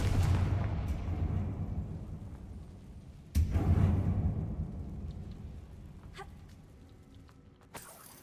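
A Confringo spell explosion in the Hogwarts Legacy video game, a deep rumbling blast with a sharp booming hit partway through, then a long decaying roar and a faint crack near the end.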